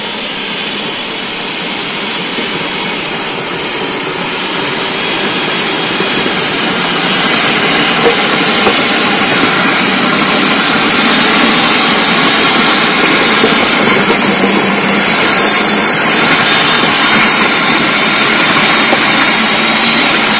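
A Zubr electric cultivator tills garden soil, giving a steady, loud, broadband motor whir with churning texture that holds constant throughout, with no talking.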